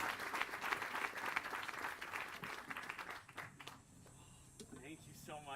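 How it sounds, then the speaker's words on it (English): A wedding audience claps and cheers loudly for a few seconds, the applause tapering off as a voice speaks over the fading claps. "Let's give them another round of applause."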